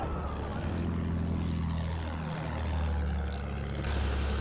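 A propeller airplane engine drones steadily in a combat video game, loud and close, its pitch shifting down midway, with a few faint bursts of other game sounds over it.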